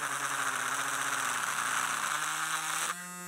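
Harbor Freight rotary tool whining steadily and close, its pitch sagging as it bogs down under load, then shifting abruptly to a thinner, cleaner hum near the end.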